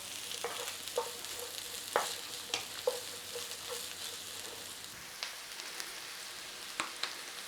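Garlic and onions fry in a little oil in a pan, a soft steady sizzle punctuated by sharp pops and spoon taps every half second or so, close and fairly quiet without speech.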